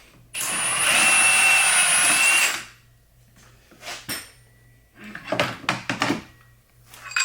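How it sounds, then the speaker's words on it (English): Impact wrench removing the primary clutch from a 2024 Polaris P-22 (RZR Pro R Boost / 9R), a loud continuous whirring burst for about two seconds, then clanks and tool handling sounds. "So now you'll run this in and then pop it off with the impact."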